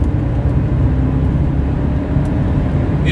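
A BMW with a Valvetronic engine accelerates hard under full throttle, giving a steady, loud, low drone of engine and road noise that holds even throughout with no talk.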